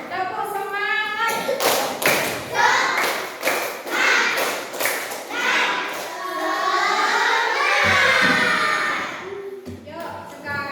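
A classroom of children performs the rhythmic 'tepuk semangat' clapping routine, with a run of loud, sharp claps in a patterned beat mixed with children's voices and chanting, and a teacher talking near the end.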